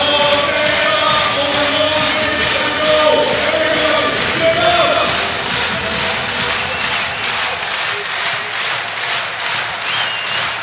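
A packed basketball arena crowd at a FIBA EuroBasket 2017 game between Finland and Slovenia roars loudly and continuously, breaking into rhythmic unison clapping toward the end, with a commentator talking over it.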